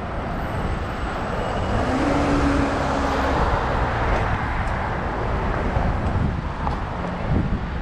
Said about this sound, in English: this car's speeding up behind me